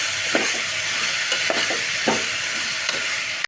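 Potato, carrot, tomato and beans for veg kurma sizzle loudly in a pan, a steady close frying hiss with a few soft stirring scrapes and knocks, no talking.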